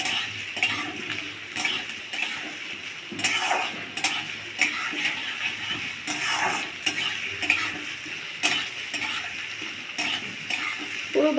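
Chopped onions fry in a pan until brown, a busy sizzle under steady stirring with repeated spatula scrapes and clicks against the metal, close and continuous with no talking.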